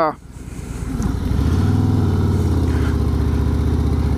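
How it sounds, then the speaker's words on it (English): Motorcycle engine on a ride in cool weather, a steady, close mid-pitched drone with pulsing firing rhythm that builds after a brief dip and then holds level with no speech over it. "I figured we'd come out, take a little ride, and put a few miles on the bike"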